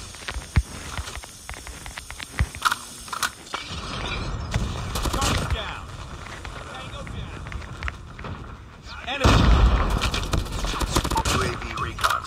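Gunfire in the mobile shooter Call of Duty Mobile during a ranked match, sharp repeated shots and bursts spread through the clip, loudest toward the end, under steady talk.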